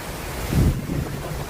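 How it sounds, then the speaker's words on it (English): Strong storm wind gusting outdoors in Jacksonville, Florida, a rough, broadband rush buffeting the microphone, swelling loudest midway then settling into steady roaring gusts with no voices. "We are having an insane storm right now."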